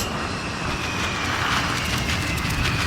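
An airplane loses its wing and crashes in the survival video game The Forest, heard as a loud, continuous roaring rumble of engine and wind noise, broadband and steady with no voices.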